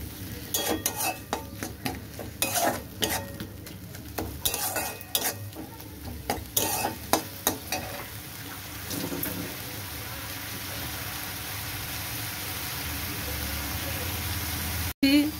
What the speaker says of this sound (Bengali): দিয়ে দিলাম অল্প একটু হলুদ, এবার মশলাটাকে ভালো করে কষিয়ে নেব।